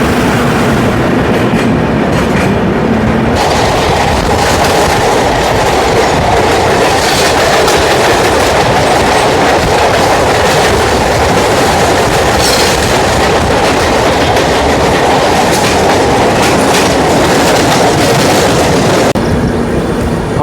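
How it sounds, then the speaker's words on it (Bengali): The new Humsafar Express from Sealdah to Jalpaiguri runs through the countryside near Malda, its wheels clattering loudly and continuously on the rails with a rhythmic clickety-clack and a broad rushing roar, no voices over it. "আমাদের ট্রেন এখন ক্রস করছে চামা গ্রাম"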